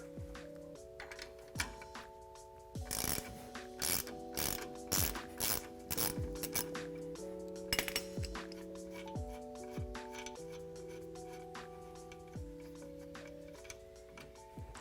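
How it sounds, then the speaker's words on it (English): A 17mm socket ratchet and wrench loosen the lower mount nut and bolt on a 2005–2020 Toyota Tacoma rear shock, producing repeated bursts of crisp ratcheting clicks over a soft melodic background tune. "we're just gonna loosen up this nut and bolt so we can pull that bolt through"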